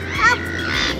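Out in a windy Cornwall country park, birds give a couple of short caw-like calls, one early and one near the end, over constant wind rumble.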